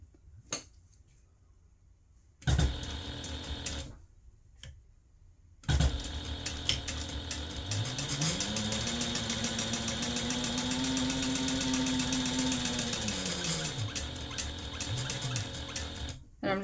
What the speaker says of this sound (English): the last step is to sew around the center portion